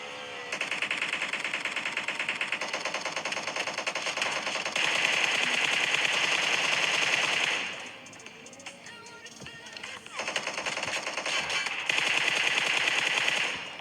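Sustained automatic gunfire in a battle royale video game, long rapid volleys of shots that run almost continuously, briefly thinning out midway before resuming, loud and close with no voices.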